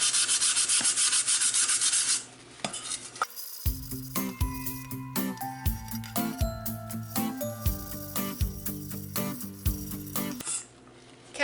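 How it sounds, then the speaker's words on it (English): Burnt-on stains get scrubbed off a stove burner pan in close, rhythmic scraping strokes with occasional metallic clinks, loud and steady between brief pauses. "I'm just going to scrub a little bit of this stuff, burn off stuff on the inside"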